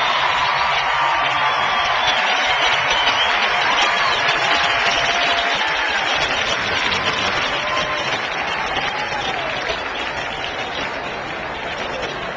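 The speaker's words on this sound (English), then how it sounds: "Listen to the crowd still." Racetrack crowd roaring and cheering after the Breeders' Cup Classic, a loud dense continuous wash of sound that holds steady throughout, with announcer commentary running over it.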